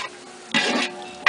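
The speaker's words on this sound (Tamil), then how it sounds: "போட்டு நல்லா மிக்ஸ் பண்ணி நல்லா வதக்கணும்." Onions and tomatoes being sautéed and stirred in a large pot for mutton biryani, with two short bursts of scraping and sizzling over a faint, quiet background.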